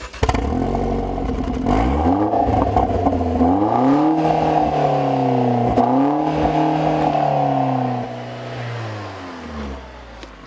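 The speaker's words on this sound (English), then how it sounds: "Yes, it's actually a Borla exhaust" A 2014 Chevy Sonic Turbo with a Borla exhaust drives past close by, engine note rising and falling through several revving gear pulls before easing off near the end, loud and steady with no talk.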